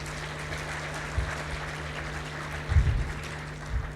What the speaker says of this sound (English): I want you to again applaud the Vice President and give him a very hearty applause